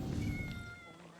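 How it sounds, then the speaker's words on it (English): Cat meowing in Assassin's Creed Shadows, a short near meow with a wavering tone over low game ambience, while someone talks alongside it. "Hell yeah, it's a kitty."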